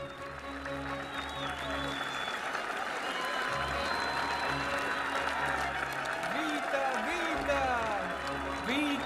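An adoring crowd applauds and cheers a town mayor in an Italian comedy film scene, with continuous clapping beneath a voice talking over it.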